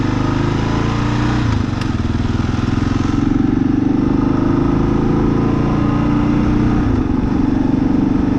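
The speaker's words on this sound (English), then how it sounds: "Let's go ahead and take her down some gravel road." A 2023 Kawasaki KLR 650 motorcycle rides along a gravel road, its single-cylinder engine droning steadily and close, with rumble and loose clatter from the surface running under it for the whole stretch.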